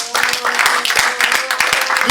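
A church congregation clapping hands together for Jesus, a loud rhythmic clap pattern close by over a short burst, with voices mixed in.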